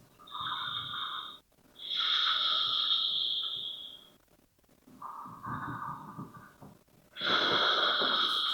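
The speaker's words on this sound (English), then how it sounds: "Let's take 2 more breaths." Deep, slightly wheezy breaths taken during a standing yoga session, heard as four long inhale and exhale passes of one to two seconds each, fairly close and steady, with short quiet gaps between them and no talking.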